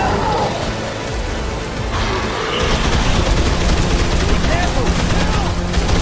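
Rapid gunfire crackles through a Dead Island Riptide zombie fight, dense and continuous bursts filling the scene while a voice shouts briefly over the shooting.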